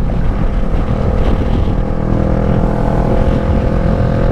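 Steady, loud idling rumble of a 2017 Kawasaki Ninja 650 motorcycle engine running, continuous and close throughout with no talk.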